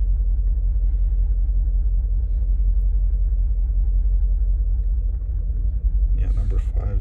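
A 2013 Mercedes G63 with the 5.5L twin-turbo M278 V8 idles with a misfire and a cylinder shut off, giving a deep, steady, slightly uneven rumble close by, with a brief shuffle of handling noise near the end.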